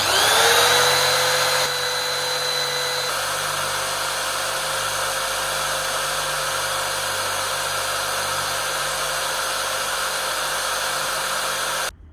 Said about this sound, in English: So we're going to attempt to sharpen this chisel right here.